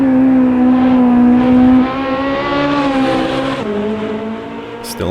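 Ferrari 458 road car engine at speed, a loud, close, steady high-pitched drone with the tone gradually shifting as it holds speed, ending with a brief sharp squeak.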